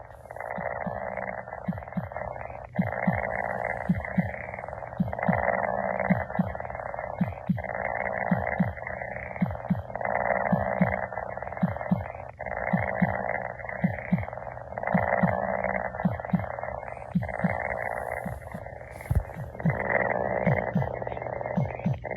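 A Chongker MateCat Pro interactive robot cat purrs close up in regular, repeating cycles of a buzzy rumble, each broken by a brief pause, with low heartbeat-like thumps running underneath and no talking.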